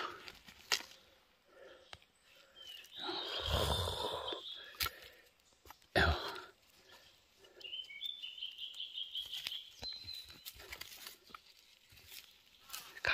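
A crow gives harsh calls outdoors along an animal trail in the hills: one loud, raspy burst in the middle, then thinner, repeated calls further off, with rustling and footsteps around them.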